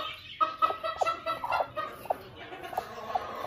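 A white Aseel hen sitting on her eggs gives a run of soft, close, repeated clucks in an uneven rhythm, with a steady background hiss.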